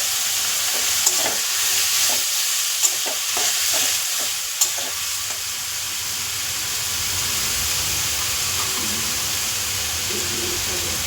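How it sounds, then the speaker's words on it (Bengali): A ground spice paste with turmeric, a little sugar and water sizzles and fries in a pan while being stirred, with scraping strokes over a steady close frying hiss and no talk. "এবার এই বাটা মশলা তো একটু ভালো করে কষাতে হবে"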